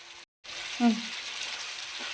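Namakkal-style egg gravy boils with a steady, close hiss and crackle in the pan as fried eggs go in. The sizzle cuts out very briefly, and a faint short voice surfaces once.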